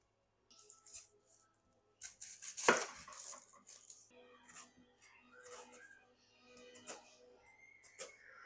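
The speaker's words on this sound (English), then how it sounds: "I got one yellow onion. We're just going to chop up." A knife chops a yellow onion on a board, giving a run of close, uneven sharp knocks with short pauses and one louder strike, with no talk.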